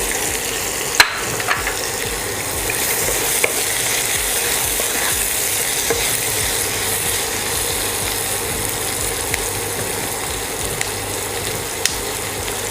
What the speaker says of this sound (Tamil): ஒரு 2 மினிட்ஸ் இதை வதக்குவோம்